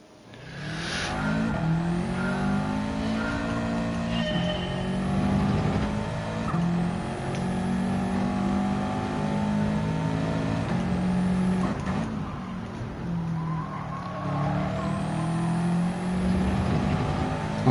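A race car in Gran Turismo 7 accelerates hard, its engine note climbing steadily through repeated upshifts with brief dips between gears, loud and continuous throughout with occasional tire noise.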